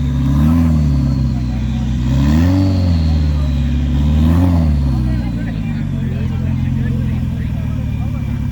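Cars roll in to a British car show, engines revving in repeated rising and falling swells close by, one after another, with people talking over the motor noise.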